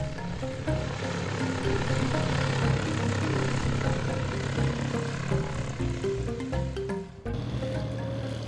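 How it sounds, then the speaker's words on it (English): A small airplane flying above the Nazca lines in Peru, its propeller engine droning steadily and loudly from close by, with a brief dip near the end. "go to the airport and get into an airplane and fly above the many figures and mysterious lines"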